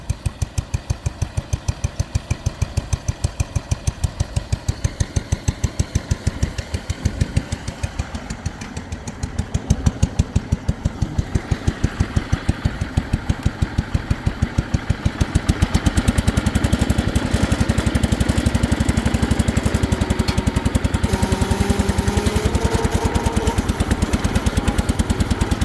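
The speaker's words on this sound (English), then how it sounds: "And it's a very quiet tractor." A White Town & Country 112H garden tractor engine runs steadily with a rapid, even pulsing chatter, growing louder and fuller about midway and holding that level to the end, with no talking.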